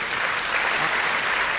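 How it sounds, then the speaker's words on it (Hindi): A crowd at a Hindi comic poetry gathering bursts into loud, dense applause welcoming poet Sampat Saral, a close, continuous wash of clapping throughout. "आप दोनों हाथ उठाकर जोरदार तालियों के साथ संपत जी का स्वागत करें।"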